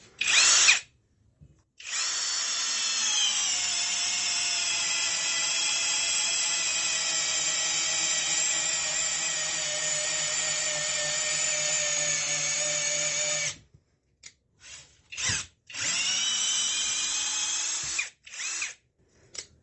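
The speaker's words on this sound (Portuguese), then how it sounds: "Vou fazer mais um furo aqui, ainda em uma polegada." A CHIGO cordless drill-driver bores a one-inch hole into wood at low speed and high torque, a sustained whining motor run of about twelve seconds followed by several short bursts, close and alone.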